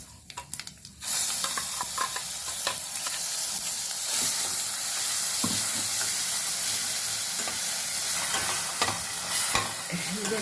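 Onion-chili paste with a pinch of asafoetida frying in a pan, a loud continuous sizzle and crackle close up, with scraping stirring strokes throughout after a brief quieter start.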